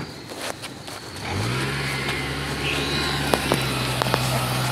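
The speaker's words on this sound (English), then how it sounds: "Oh, here comes a car." A car on a residential street approaches and passes at close range, its steady engine hum swelling then holding under faint outdoor background noise and scattered footsteps, with no talking.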